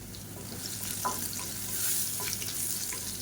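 Crushed garlic frying in a pan with a pinch of asafoetida, giving a steady close hiss and crackle with a few faint utensil taps and no talking.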